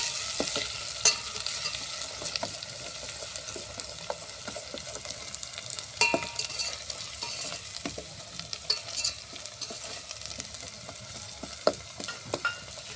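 Turmeric, chili powder and salt fry in oil in a pan on a wood-fired stove, giving a soft steady sizzle punctuated by repeated scraping and tapping of a stirring spoon, with no voices.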